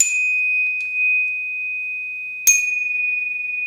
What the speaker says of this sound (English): We have the Knog Classic, so you can see very similar design to that with the spring-loaded trigger.